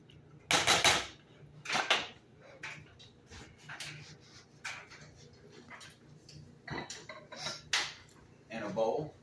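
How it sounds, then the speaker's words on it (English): Pasta arrabbiata with shrimp is stirred through sauce in a skillet, making intermittent metallic scrapes and clanks of a spoon against the pan, loudest at the start, with quieter shuffling between. "coat these noodles in that sauce"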